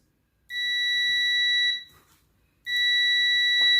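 Two sustained electronic beeps from a multimeter in continuity mode as two wires of a three-wire ceiling fan touch, loud and close, the first lasting over a second, then a short gap before the second begins.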